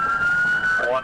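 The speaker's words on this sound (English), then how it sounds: "officers blare their lights and sirens" A police car siren wails steadily at close range during a felony traffic stop on a highway, a loud continuous tone holding through the moment before shifting pitch at the end.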